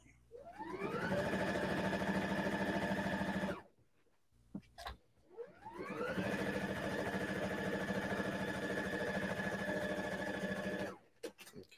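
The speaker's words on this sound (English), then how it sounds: "now I'm gonna sew up the sides" Sewing machine stitching up the sides of a pillow made from upcycled neckties, running in two steady bursts of continuous motor whir and needle chatter separated by a short pause, close and loud.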